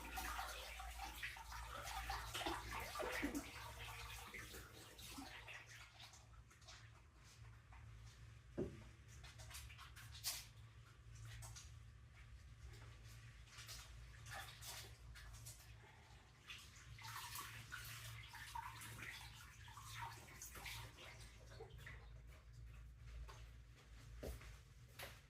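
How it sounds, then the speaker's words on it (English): Tap water running while hands are washed at a kitchen sink, a steady splashing rush that goes on throughout, close and moderately quiet, with a few knocks and a drip mixed in. "Wash my hands."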